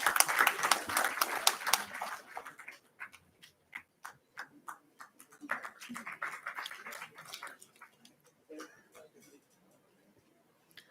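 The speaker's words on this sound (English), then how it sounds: "Let's have a huge round of applause" An audience applauding at a corporate event ceremony, strong clapping at first that thins into scattered, uneven claps and fades out, with speech present.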